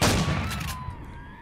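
Gunfire in the space survival game Empyrion Galactic Survival bursts loudly at the start, a dense rattle of shots that quickly fades into a decaying rumble and low hum.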